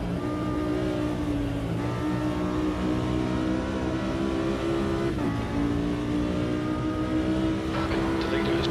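Audi GT4 race car in Automobilista 2, the engine droning loud and steady at high revs with shifting harmonic pitch, a brief gearchange dip midway, continuous throughout with a voice talking over it.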